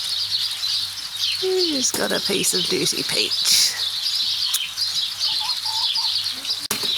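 Chickens in a backyard vegetable garden cluck and call while pecking at dropped peach, with short close-up squawks and a flutter of wings, while a person talks over them.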